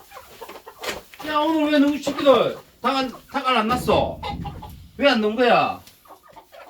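Chickens in a coop cluck and call in repeated bursts close by, mixed in with a person talking over them.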